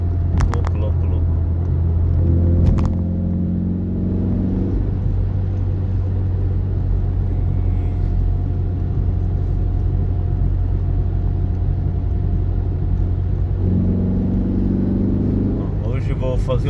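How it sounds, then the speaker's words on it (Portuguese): A Ford Focus engine fitted with butterfly individual throttle bodies idles with a steady, close, rumbling drone, swelling in two short throttle blips, with no talking. "Que louco o barulho das ITBs aí."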